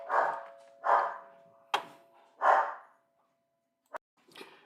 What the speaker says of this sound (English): Amazon dropped off a package, so the dogs are barking.